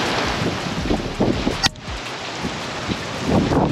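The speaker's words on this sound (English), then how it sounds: "the rain caught up" Rain falls at a roadside lunch stop during a motorcycle rally in Sturgis, a dense, loud hiss of drops with gusty rumble underneath and brief sharper bursts, no voices.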